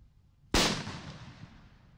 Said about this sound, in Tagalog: Unang isinalang ang paputok na King Kong na mas malaki lang ng konti sa 5-star